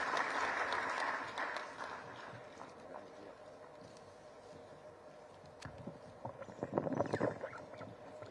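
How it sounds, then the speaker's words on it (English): Conference audience applauds a guest, the Minister in charge of planning, with distant, fairly faint clapping that fades and then swells again in a short burst near the end. "Clap for the guest."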